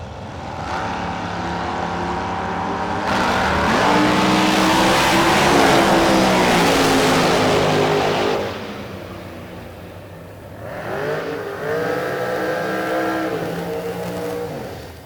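Drag racing cars at a chilly Oklahoma drag strip, including a Chevrolet in the right lane, roaring loudly as they launch and accelerate away, then a second burst of rising engine revs.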